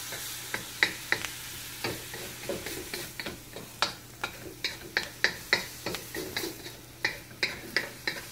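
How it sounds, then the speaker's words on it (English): Cabbage and cauliflower rice stir-fry in a pan with a soft sizzle, while a utensil scrapes and taps against the pan in a quick, steady series of close clicks. "this only takes about another minute or so of stir frying"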